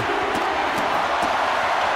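Roaring wrestling crowd at a live pro wrestling ladder match, a dense continuous wall of cheering and shouting held steady and loud throughout, with no clear individual voices breaking through.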